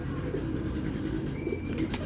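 Rampuri pigeons coo softly at a bustling pigeon market in Shahdara, Lahore, a low murmuring coo under steady crowd and background noise.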